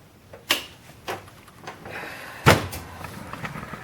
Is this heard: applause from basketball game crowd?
no